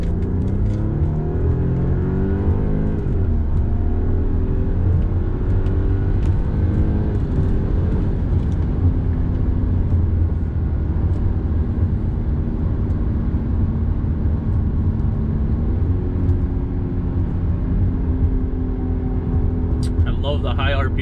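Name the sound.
car accelerating hard in dynamic mode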